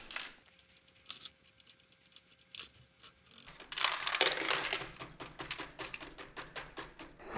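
Coins clatter and rattle through a homemade Lego coin sorter, first as scattered clicks, then as a denser, louder stream of metallic jingling as pennies and other coins pile up.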